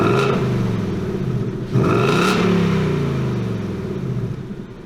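A 2019 Ford Mustang GT S550 V8 rumbles close by, then revs sharply twice, its pitch rising and settling into a loud, steady engine drone.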